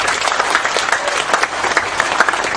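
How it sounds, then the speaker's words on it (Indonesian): Audience applause for Pak Nevi at a Cak Nun gathering, dense and loud clapping from a crowd sustained evenly throughout, with no talk over it. "Tepuk tangan untuk Pak Nevi."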